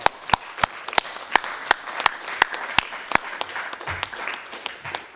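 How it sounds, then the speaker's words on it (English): At a committee meeting, a room of people gives a round of applause, steady scattered clapping with a few sharp, prominent claps close by, lasting several seconds. "I think you deserve another round of applause here."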